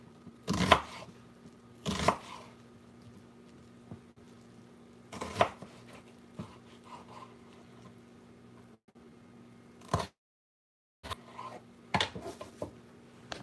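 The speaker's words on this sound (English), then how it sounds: "Show you my onion cutting" A knife chops through an onion on a board in a kitchen, a handful of sharp, separate strikes at irregular intervals with quiet gaps and a faint background hum between them.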